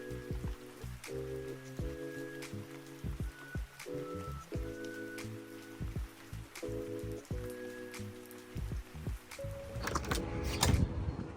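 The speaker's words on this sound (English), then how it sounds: "now it has started to rain" Rain falls outside a hotel on Long Beach Island, a faint continuous patter with scattered drops under a steady low hum, swelling into a louder splashing burst near the end.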